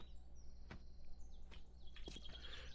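A bird chirps in the survival game 7 Days to Die, giving several short, thin tweets and whistled calls spread out over a few seconds against a quiet, low background hum.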